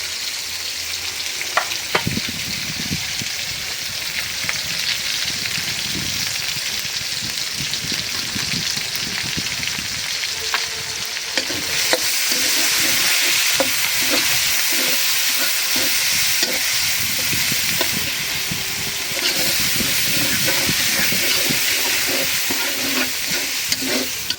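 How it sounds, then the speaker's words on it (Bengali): Garlic, onion and green chillies frying in hot oil, a loud continuous sizzle with frequent spatula scrapes and stirring knocks, building slightly louder midway and running throughout. "রসুন পেঁয়াজ মরিচ ভাজা নিলাম"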